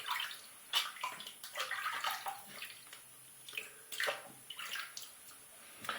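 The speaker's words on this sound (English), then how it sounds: "I'm going to rinse off my face" Tap water running and splashing as a face is rinsed with cupped hands after a shave, a faint, uneven wash of trickles and splashes at close range, with no talking.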